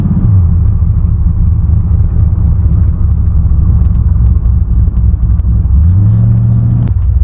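A steady, loud engine rumble from a 1981 Camaro carries on evenly at cruising speed, with road noise and a slight shift in pitch near the end.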